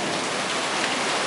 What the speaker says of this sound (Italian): Una pioggia incredibile, mai visto in vita mia.